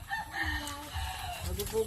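Soft, close clucking from a laying hen, a few short murmuring calls at low volume against a quiet outdoor background.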